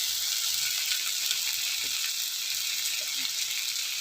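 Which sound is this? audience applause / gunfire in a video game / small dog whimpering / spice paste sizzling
spice paste sizzling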